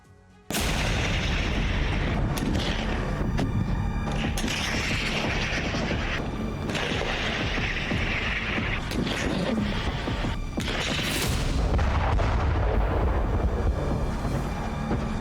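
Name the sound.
missile explosions and mortar fire in war footage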